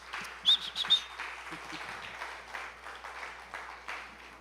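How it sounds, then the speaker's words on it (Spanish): A church congregation applauds, softer, scattered clapping with a few bright, high chirps near the start and a faint voice briefly underneath. "desen un aplauso a todos ustedes"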